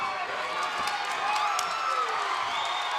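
A crowd at a WSOF 27 mixed martial arts event cheers, whoops and claps in appreciation, a broad roar filling the arena, with a commentator talking over it.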